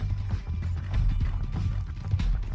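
Horse hooves clip-clop at a quick, steady gallop in Red Dead Redemption 2, a loud continuous drumming of hoofbeats over a low rumbling game background with no talk.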